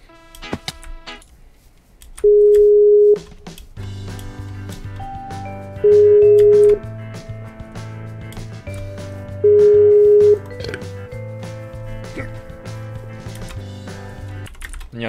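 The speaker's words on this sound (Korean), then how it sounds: "전화 안 받아." An unanswered phone call in Minecraft rings out as a steady electronic ringback tone, sounding three times at even intervals of about three and a half seconds over faint keyboard clicks and background hum.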